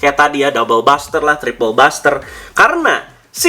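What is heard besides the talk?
No distinct noise like a dog, phone or traffic.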